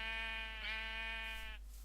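A single Minecraft sheep bleats in one long, wavering, buzzy call of nearly two seconds, close and fairly quiet against a low steady hum, with no talk over it.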